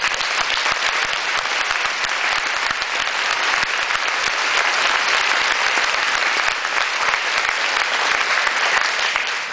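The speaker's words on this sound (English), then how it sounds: "Would you join me in applauding Rick Jor?" Dense, continuous applause from an audience at a political campaign event, a loud and even roar of many hands clapping without a break.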